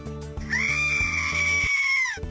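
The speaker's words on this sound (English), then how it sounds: "Screaming is my talent." A cartoon farm animal lets out one long, high, piercing scream as its talent show act, holding the tone steadily over background music before it cuts off.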